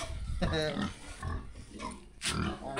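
A pig on a Filipino farm grunts in several short bursts amid loud, busy Tagalog talk and shouting as people try to move it.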